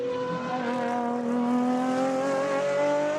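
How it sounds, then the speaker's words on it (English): The Lamborghini SCV12 race car heads toward turn 8 at the Barcelona circuit, its loud, continuous engine note rising steadily in pitch as it accelerates, with no voices over it. "So the Lamborghini SCV12 once more comes towards turn 8."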